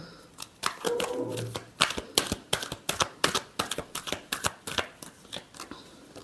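Tarot cards being shuffled in a rapid, steady run of crisp riffles and slaps, close and fairly loud, lasting several seconds with no talking over it.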